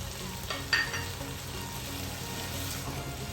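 Chicken pieces coated in masala with lemon juice fry in a pan, a steady close sizzle with brief stirring clatter early on and no talk.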